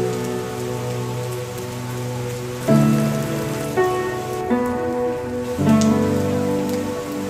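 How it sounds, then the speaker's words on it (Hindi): Heavy monsoon rain pours down at a resort in Jim Corbett, India, in a steady, dense hiss that fills the whole stretch, swelling louder in a few spots, with no voices. "जबरदस्त बारिश हो रही है।"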